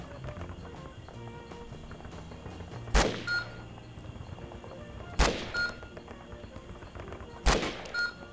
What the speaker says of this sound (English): The M16 has two fire modes, single shot and burst fire.